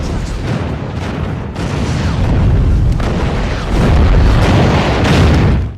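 Heavy artillery shells burst in a World War II battle scene from Band of Brothers, a dense run of deep, rumbling booms that swells louder toward the end with no break in the barrage.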